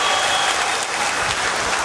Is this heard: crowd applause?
yes